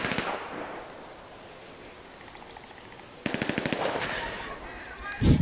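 Gunfire in the video game GTA 5: a few distant shots at first, then a rapid automatic burst of evenly spaced cracks, ending in a louder thud.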